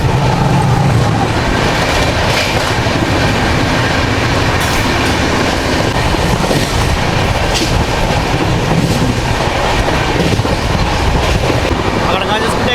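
Tirumala Express 18522 running at speed, a loud continuous roar of rolling stock with steady clickety-clack from the wheels and occasional squeals, a voice talking over it.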